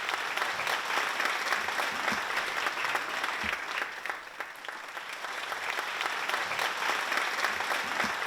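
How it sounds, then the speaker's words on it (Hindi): An audience at the Sancharika Award Ceremony applauds, a steady roomful of clapping that dips briefly in the middle before swelling back. "तालियां बहुत कम बज रही हैं,"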